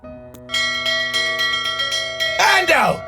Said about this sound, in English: Are you ringing the bell again?